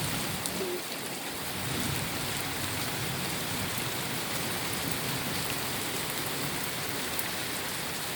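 Steady heavy rain pours down during a December thunderstorm in the south, a dense, continuous hiss of falling water, with no clear thunder clap and no voices.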